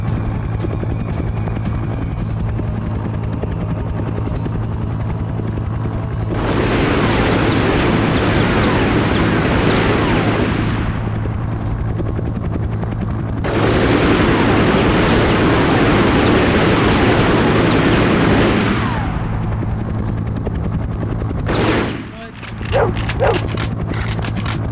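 Helicopter rotor noise from the PS2 action game Dead to Rights, a loud steady chopping drone that surges in two long stretches over constant background game sound, with barking dogs mixed in.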